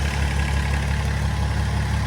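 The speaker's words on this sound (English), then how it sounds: "Then I'm going to fire it up." A BMW M57 diesel engine running on a standalone wiring setup settles into a steady, low idle with an even rumble, close and loud, with no voices over it.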